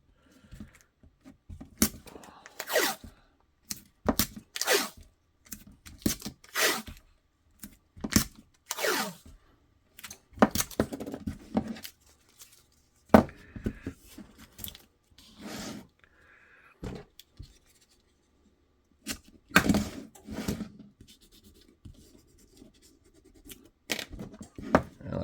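Cutting and trimming of a custom holster mold for a Hellcat Pro with TLR8 light, heard as irregular sharp snips, crinkly scraping and handling noises in quick bursts with short pauses, close and fairly loud, with no talking.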